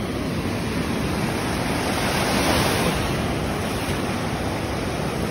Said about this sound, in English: Come and catch some waves.